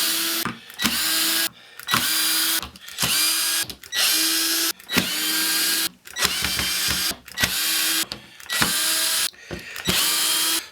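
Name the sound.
power drill backing out screws from camper bench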